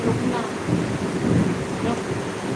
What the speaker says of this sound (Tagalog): Nakumulog na.